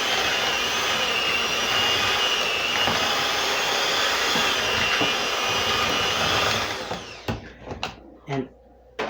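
Electric hand mixer whipping potatoes with milk, a loud, steady high-pitched whir running for about seven seconds before cutting off, followed by a few short clatters and knocks.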